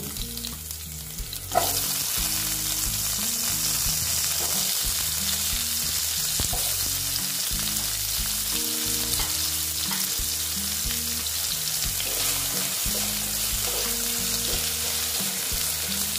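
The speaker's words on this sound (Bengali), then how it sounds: "দেখো আলু দিয়ে দিচ্ছি, আলুগুলো ভেজে নেব।" Potatoes frying in hot oil in a pan, a loud continuous close sizzle that jumps up suddenly as they go in, with rhythmic scraping and stirring strokes running underneath.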